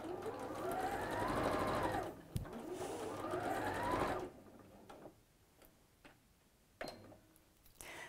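A sewing machine stitches fine dark fabric for a colour-block dress. It runs in two short close bursts with rapid ticking, then stops, leaving quiet handling clicks.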